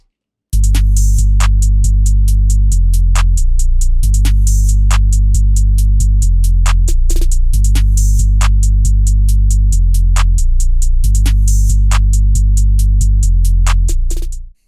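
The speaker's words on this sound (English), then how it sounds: "All the percussion and the 808 together are going to sound like this." Hip-hop beat built in FL Studio: booming 808 bass notes change pitch in steps under rapid crisp hi-hat ticks and periodic snare hits, loud and continuous with a brief dropout near the end.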